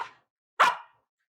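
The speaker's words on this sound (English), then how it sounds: "He has the worst bark in the world." A dog barks twice: a brief trailing bark, then one loud, close, harsh bark standing alone before silence.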